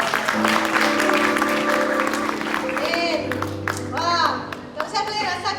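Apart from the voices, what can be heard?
audience applause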